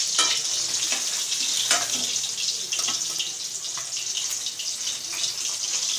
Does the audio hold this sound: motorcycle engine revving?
no